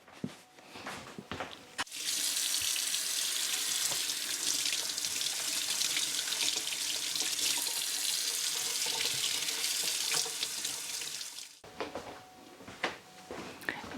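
Tap water runs steadily from a kitchen faucet into a sink while apples are washed, a continuous broad hiss lasting about ten seconds, with faint handling clatter before and after.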